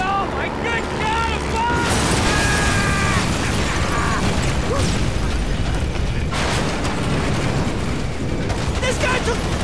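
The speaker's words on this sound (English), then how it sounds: "You're actually firing rockets?" Rockets fire and explode in the video game GTA V, with repeated loud booming bursts and mechanical roaring under a dense, chaotic mix, as voices shout at intervals over the din.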